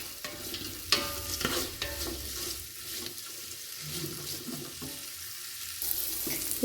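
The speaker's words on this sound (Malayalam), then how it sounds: "സവാള നന്നായിട്ട് വഴറ്റി" Sliced onions sauté with salt in a pan for chicken biryani. A soft sizzle runs under scraping and clinking of a spoon being stirred, with a few sharper knocks against the pan.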